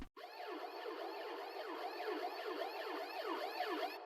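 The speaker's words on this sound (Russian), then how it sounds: "полицейская машина как будто подъезжает к нам, но она у нас еще не близко" A police siren wails in repeated rising and falling sweeps, steady and moderately distant, with no voices.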